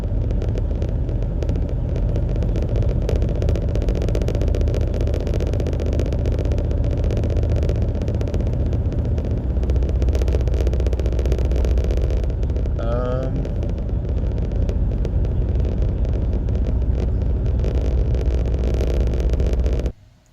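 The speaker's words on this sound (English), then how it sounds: "I've got a serious rattling happening that wasn't happening before. That rattling is happening with my foot on the pedal now." A rental car's engine rumbles loudly and steadily while accelerating, with a rattle running through the noise almost the whole time before it cuts off at the very end.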